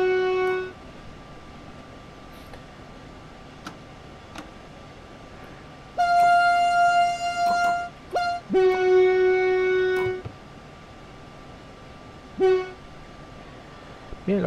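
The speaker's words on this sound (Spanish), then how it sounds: "los sonidos de bocina en esta unidad están bastante bien" Train horn on a train in Train Sim World 2 on the Main Spessart line, sounding several loud sustained two-tone blasts of varying length, with gaps of quieter rolling engine noise between them.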